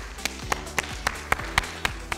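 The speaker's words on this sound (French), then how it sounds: "on peut s'applaudir" A small group claps together in a quick, even rhythm, about eight sharp claps over two seconds, fairly close and moderately loud, with a faint low hum beneath.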